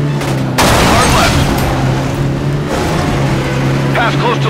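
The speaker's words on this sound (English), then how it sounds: "Close to the explosion." An explosion goes off in the Stuntman Ignition driving-stunt game, a loud boom that bursts in abruptly and then rumbles on over the steady drone of a car engine, with a voice talking over it.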